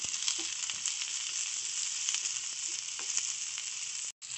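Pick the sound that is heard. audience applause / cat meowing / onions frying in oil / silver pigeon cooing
onions frying in oil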